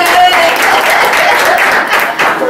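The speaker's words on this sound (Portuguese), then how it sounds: "Uma salva de palmas ao Cornélio Valente." A crowd at a celebration at the Maha São Miguel Arcanjo temple claps loudly and steadily, a dense wash of applause with voices faintly mixed in.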